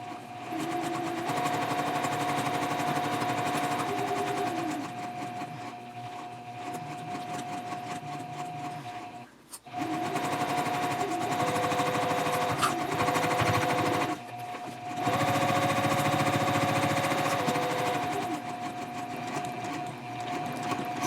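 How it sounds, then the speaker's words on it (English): Sewing machine stitching a fabric shopping bag, running in long steady whirring stretches with a few short pauses, close and loud with no talking. "So just keep sewing all the way around until you get back to where you started"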